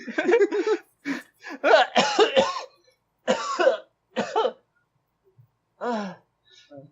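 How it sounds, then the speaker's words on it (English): A person coughs repeatedly in harsh, rough bursts close by, with short gasps and pauses between the fits. "Just coughing up my lungs"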